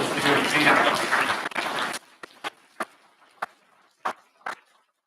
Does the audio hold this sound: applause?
yes